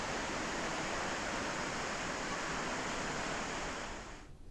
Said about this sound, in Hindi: देहरादून में बारिश से सड़कें दरिया बन चुकी है।